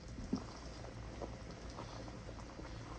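Ogbono soup simmers on medium heat, a faint, even bubbling and popping texture that holds steady throughout, quiet and without talk.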